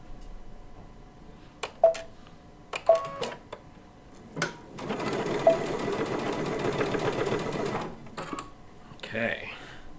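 A sewing machine stitches a quilt block in a short burst of steady mechanical whirring, framed by brief clicks and handling knocks, with someone speaking softly nearby.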